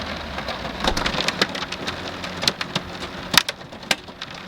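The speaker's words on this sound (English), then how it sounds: "All right, we're getting some hail." Hail and heavy rain pelt the outside of an Airstream trailer at a rally overlooking a race track, with a dense steady patter broken by sharp, loud individual stone impacts.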